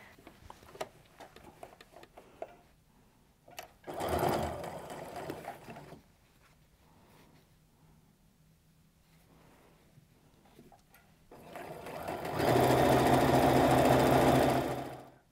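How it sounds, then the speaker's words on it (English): Sewing machine stitching fabric for an apron, quiet handling and fabric rustle followed by two loud, rapid, steady runs of needle chatter, the second longer, with no talk. "I'm just helping make sure it stays nice and straight as I am sewing through there"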